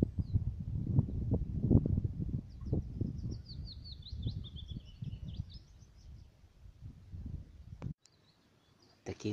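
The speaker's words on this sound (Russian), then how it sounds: "Птички поют." Small birds chirp and sing near a little spring bog, faint and somewhat distant, with a few thin high calls over low rustling and handling noise. The sound drops out briefly near the end.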